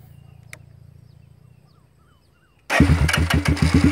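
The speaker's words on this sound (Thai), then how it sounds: "ก็จะมาสตาร์ทให้ดูนะค" A GPX CR5 200cc motorcycle starts after a quiet stretch: the engine catches abruptly and settles into a loud, close, rapidly pulsing idle, with no talk.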